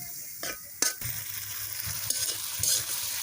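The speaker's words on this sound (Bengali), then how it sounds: "একটু জল দিয়ে দিব ভালো করে মশলাটা কষিয়ে নিব" Masala with a splash of water being sautéed in a pan for a Bengali prawn and banana-stem curry: a steady low sizzle with a few sharp spatula scrapes and knocks against the pan, close up, no talking.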